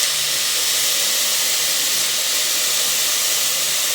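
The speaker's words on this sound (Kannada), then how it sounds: "ಈಗ ಇದನ್ನ ಚೆನ್ನಾಗಿ ಫ್ರೈ ಮಾಡೋಣ ಈರುಳ್ಳಿ ಕೆಂಪಗಾಗೋವರೆಗೂ" Chopped onions with salt frying in a pan for a home-style chicken curry, giving a steady, loud, even sizzle that hisses without pause from start to finish, with no voices.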